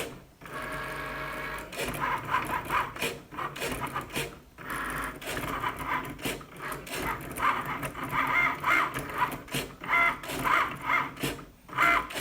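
A Cricut Maker cutting machine cuts out a design for a fall shirt, its carriage whirring and buzzing in steady bursts, with short pauses and rasping passes close by. No one speaks.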